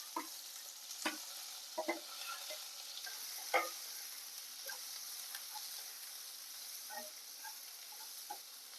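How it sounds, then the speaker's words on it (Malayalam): Onion and green chili sauté in a pan as a soft, steady sizzle runs throughout, broken by scattered spatula taps and scrapes, fairly quiet. "നല്ലതുപോലെ ഒന്ന് സവാള വഴന്നു വരണം."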